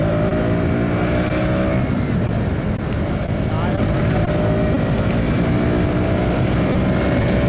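Close engine roar of a 390 motorcycle, likely a KTM, revving steadily during a ride on the road, with wind noise and people talking over it throughout.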